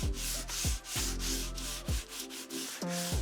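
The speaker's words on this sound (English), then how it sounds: "I did sand the dowel a bit with a random orbital sander, but for the most part I did it with hand sanding" A wooden dowel is sanded by hand in quick back-and-forth strokes, about seven rhythmic rasping passes, close and fairly quiet, with no other sounds.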